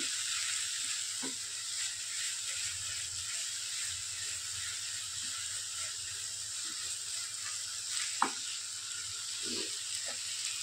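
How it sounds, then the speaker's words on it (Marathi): Chili, garlic and cumin paste sautéing in a pan for a pomfret fish curry, a steady soft sizzle running throughout with a few faint stirring clicks and one brief sharper knock near the end. "मिरच्यांची पेस्ट, लसूण, मिरची आणि जिऱ्याची पेस्ट घालते। परतून घेऊ।"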